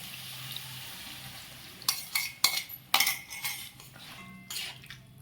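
A spoon stirs cauliflower curry with yogurt in a pan, making scattered metallic clinks and scrapes in short bursts over a low sizzling background, with no talking.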